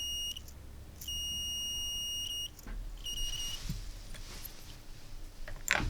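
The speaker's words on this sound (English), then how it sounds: "the ball making the contact and the piezo is beeping" High-pitched electronic beeps from a piezo buzzer module triggered by a ball tilt switch, three sustained bursts, close and clear, with handling noise and faint clicks between them.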